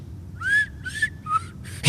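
A person whistles a tune in four clear, bright phrases with short pauses between them, close and alone, ending in a brief burst of noise.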